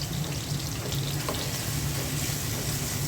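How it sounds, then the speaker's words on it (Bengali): Chopped onions with garam masala fry in a pan, giving a dense, continuous sizzling hiss that stays loud and even throughout, with no voices. "পেঁয়াজটা হালকা ভেজে নেব।"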